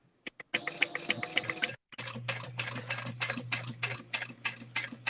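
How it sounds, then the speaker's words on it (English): A sewing machine back-stitches the corner of a fabric bag, producing close, quick ticking stitch bursts that pause briefly, then resume with a low steady hum beneath the rapid clicking. "You're going to go right on that little corner point and back stitch."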